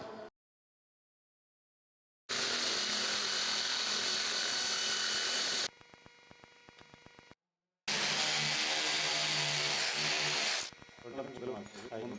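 A power tool drills holes in a wooden spiral stair handrail, loud sustained whirring bursts broken by short silences, close to the work.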